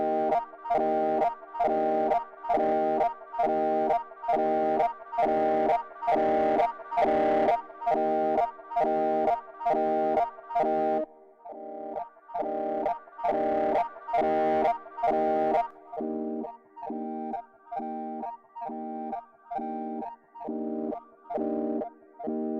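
A distorted, buzzy Arturia Pigments synthesizer with overdrive repeats a steady pulsing pattern of notes, its gritty tone shifting a couple of times as the sequence continues.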